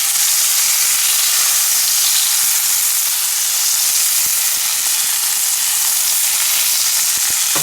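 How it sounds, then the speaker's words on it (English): Moose burgers frying in a lidded pan on a stove in an off-grid Yukon log cabin make a loud, continuous, close-up sizzle and hiss that holds steady throughout, with no talking. "I've put a lid on because I'm frying the burgers, and that makes the cheese extra melty."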